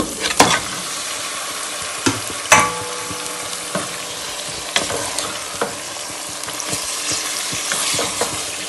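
Chicken pieces go into a hot pan for Pakistani-style biryani, setting off a loud, steady frying sizzle close by, punctuated by a few sharp knocks and scrapes as they are stirred, with no voices.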